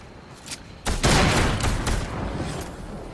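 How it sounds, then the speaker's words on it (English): Sniper gunfire in Fortnite: a sharp loud shot cracks out and rings with a decaying tail, followed by a couple of fainter distant reports. "I'm getting sniped from behind"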